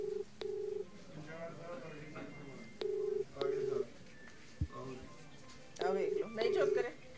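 A phone call goes unanswered, with repeated electronic ringback tones in short bursts separated by pauses while several people talk over it in a noisy room.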